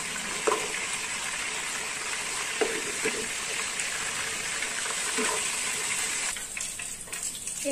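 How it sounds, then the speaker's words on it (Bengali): Whole garam masala and bay leaves hitting hot oil in a home kitchen, a steady hiss of sizzling with a few small pops and crackles, close and continuous, with no talking. "এবার এই তেলের মধ্যে আমি একটু গোটা গরম মশলা, তেজপাতা ফোড়ন দিয়ে নিলাম।"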